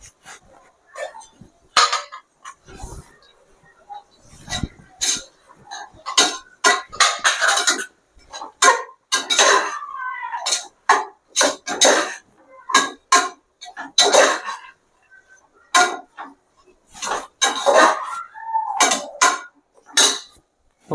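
Carrots, beans and other vegetables are stirred in a pan for porridge, with repeated sharp scrapes and clinks of a spoon against metal in an irregular rhythm, close and clear over quiet gaps.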